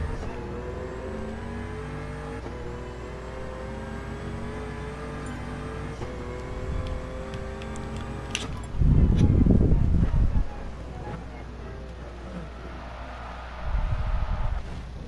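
Lamborghini Aventador engine in Gran Turismo Sport, a steady droning hum with a louder surge of revving near the middle and another brief burst toward the end.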